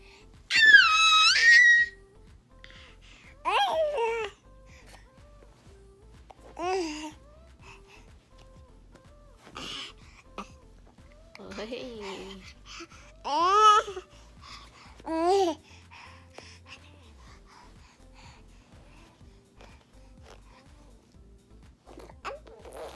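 An eight-month-old baby boy babbles, squeals and makes wet lip sounds in short bursts separated by pauses, close and alone over a quiet indoor background.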